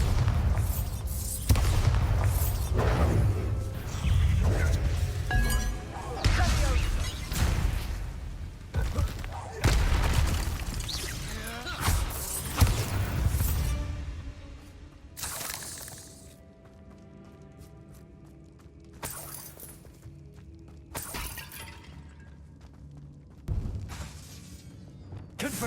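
A Bombarda spell explosion in Hogwarts Legacy goes off among a flurry of loud blasts and shattering bursts, which later thin to a few isolated booms over quieter game ambience.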